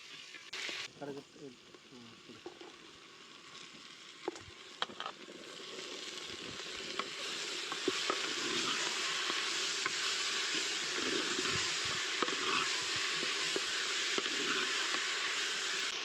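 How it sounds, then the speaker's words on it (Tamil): Onion, garlic and tomato sauté in a pan for a fish curry, with clattering stirring strokes at first and then a steady sizzle that grows louder and holds, with no talk over it. "அது பிறகு தக்காளியை சேர்த்து வதக்க போகிறோம்."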